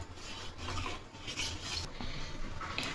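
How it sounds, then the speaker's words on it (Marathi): Raw milk with powdered sugar, cardamom and fennel gets stirred in a vessel, a soft steady scraping and swishing at low volume with no speech. "आता साखर विरघळेपर्यंत आपण याला हलवून घेऊ।"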